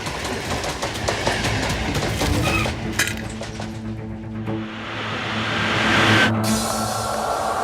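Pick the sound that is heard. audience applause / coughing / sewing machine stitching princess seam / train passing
train passing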